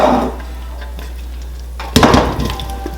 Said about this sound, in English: we're gonna go ahead and dump them right into this bowl